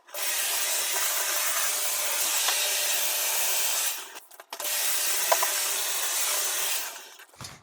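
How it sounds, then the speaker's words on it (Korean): A Toshiba washing machine running with a loud, steady rushing whir, close up, briefly dropping out midway before resuming, with no talking. "도시바 세탁기 힘을 내란 말이야"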